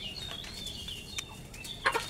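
Chickens kept on a small semi-enclosed hobby farm with a tin-sheet enclosure, giving faint scattered clucks and calls at a distance, with one brief louder squawk near the end over steady background noise.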